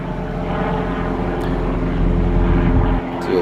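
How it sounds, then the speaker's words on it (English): A 2009 Pontiac G8 GXP six-speed sedan with 135,000 miles rumbles through its dual exhaust: a loud, steady, deep droning hum with a slight swell and a brief dip near the end. "Dual exhaust."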